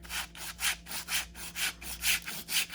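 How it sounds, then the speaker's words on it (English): Steady back-and-forth hand sanding of a wooden guitar neck from an ES-335 kit, a rhythmic sandpaper rasp repeating about twice a second, close and moderately quiet. "And I'm being careful not to sand down into this part."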